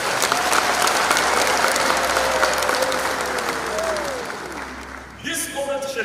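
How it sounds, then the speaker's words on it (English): Audience applause fills a ceremony hall at a presidential football cup launch, steady and dense for about five seconds, then tapering as other sounds cut in near the end. "May you please clap your hands."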